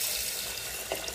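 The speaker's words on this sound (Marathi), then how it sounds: "हे डाळ आणि तांदूळ स्वच्छ पाण्याने धुवून घ्यायचे" Toor dal and rice are rinsed in clean water in a pressure cooker pot for khichdi, giving a steady close wash of splashing, running water with a small slosh near the end.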